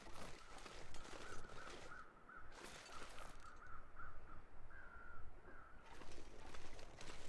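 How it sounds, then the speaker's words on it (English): Crows caw repeatedly in the video game The Long Dark, a faint series of harsh calls in steady bursts over a quiet wind-like ambience and soft footsteps. "Yeah, there's too many sets of crows."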